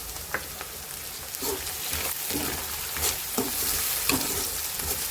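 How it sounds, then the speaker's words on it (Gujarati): Chopped tomatoes and drumstick pods sizzle and roast in a hot pan with onion, a steady close frying hiss broken by periodic stirring scrapes, no voices. "ટામેટાને 5 મિનિટ સુધી રોસ્ટ થવા દઈશું"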